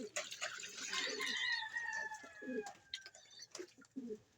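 Pigeons kept by a fancier coo softly and repeatedly while drinking electrolyte water, a close murmuring coo with short calls, faint background voices and light splashing.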